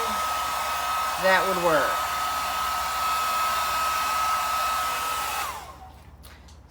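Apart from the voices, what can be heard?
heat tool on low setting drying acrylic paint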